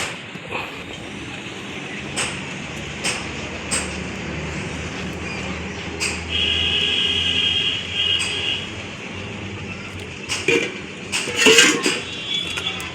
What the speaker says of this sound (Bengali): এগুলোকে দিয়ে দিচ্ছি চিনির শিরার মধ্যে